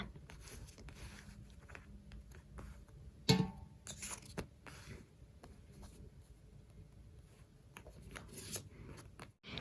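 Tarot cards are shuffled and drawn by hand, giving soft close riffling and papery flicks with one sharper snap near the start, faint in a quiet room.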